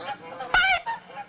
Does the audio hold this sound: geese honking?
yes